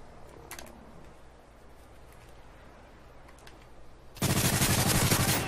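Sudden burst of sustained automatic gunfire from hip firing in Modern Warfare 3, erupting loud after a quiet stretch of faint game ambience and clicks.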